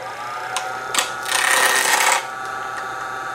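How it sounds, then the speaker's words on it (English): A spindle roughing gouge roughs out a workpiece turning between centres on a wood lathe, giving a bright, scraping hiss with short bites early on, then a louder sustained cut through the middle before easing back to the machine's steady hum. "I'm going to bring the tailstock up while I rough it out, and I've got a spindle roughing gouge"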